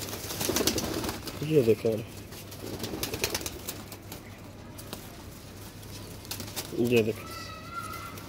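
Teddy baby pigeons coo in two short, close bursts amid soft rustling, while someone talks over them.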